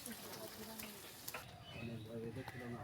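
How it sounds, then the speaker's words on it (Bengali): Fish frying in hot oil in a pan, a steady crackling sizzle with small pops running throughout, fairly quiet and close. "তো চলো মাছটা ভেজে নিই"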